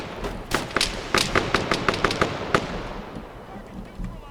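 An AI soldier in the ArmA 3 military game fires a rapid string of about a dozen sharp gunshots, cracking in a quick irregular burst before fading into quieter ambient noise.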